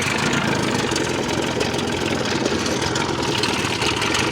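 A 1980 Johnson 25hp outboard motor on a 16-foot aluminum V-hull boat idles with a steady, loud, even rumble and slight knock, running alone without talk.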